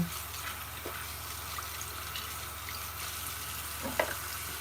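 Running tap water while hands are washed with antibacterial soap at a bathroom sink, a steady faint rush with a couple of soft splashes, no voices.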